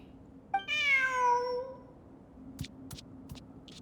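A cat meows once in the Genshin Impact video game, a single clear drawn-out call, followed by a few faint soft clicks or taps.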